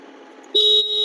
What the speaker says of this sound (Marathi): इथं इंडिकेटर हॉर्न देऊ आपण टर्न आहे